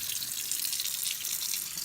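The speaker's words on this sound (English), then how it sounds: "So once it's been sitting for about 60 seconds, you want to run water on it." Tap water running steadily from a lab faucet over a stained microscope slide after crystal violet staining, a continuous close hissing splash with no pauses and no talking.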